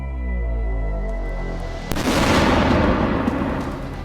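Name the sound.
explosions from Russian attack on Ukrainian command post in Kharkiv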